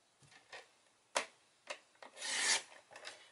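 Chocolate chip cardstock being cut at 1 inch for an Easter card, a series of short rasping scrapes and one longer sliding rub, close and fairly clear, with no talk.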